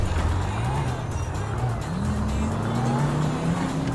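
Car chase in Grand Theft Auto 5 with engines revving in rising pitch and tires squealing, loud and continuous throughout, with brief voices mixed in.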